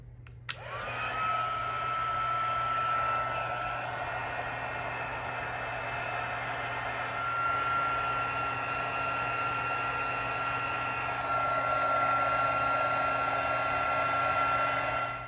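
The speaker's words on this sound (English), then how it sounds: "I'm just gonna bring in my Stampin' Up heat tool. I'm gonna put it on setting 2 and heat these up." Stampin' Up heat tool on setting 2 melting embossing powder, a steady, close, continuous blowing whine with a high tone that starts abruptly and runs without a break.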